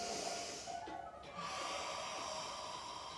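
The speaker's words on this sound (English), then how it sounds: "you need to breathe and exhale through your mouth" Slow breathing with a soft, airy exhale through the mouth, a close breathy hiss that fades briefly before another gentle breath begins.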